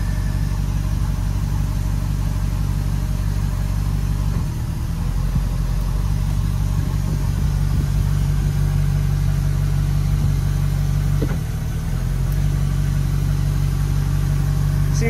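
Mercury Mag 350 inboard engine on a Donzi 28ZXO boat idles with a steady, loud low rumble throughout, with brief dips in level around the fifth and eleventh seconds, and no voices.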